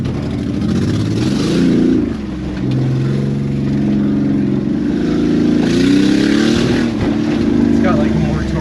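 2001 Nissan Pathfinder with a welded rear revving hard on a test drive, a loud close engine drone rising and falling as the tire spins, with voices talking over it.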